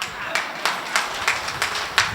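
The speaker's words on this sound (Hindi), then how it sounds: "और कुछ लोग इतने अच्छे ताली बजा रहे हैं" Audience applause at a Hindi poetry recital (kavi sammelan), heard as a series of sharp, evenly spaced claps of moderate loudness standing out from a steady background murmur.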